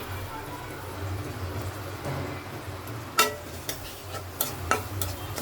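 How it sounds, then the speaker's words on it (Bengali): Papaya curry cooking in a pan, with a low simmering bubble joined later by a few sharp scraping clicks from stirring. "পেঁপে তরকারিটা বসিয়ে দিলাম।"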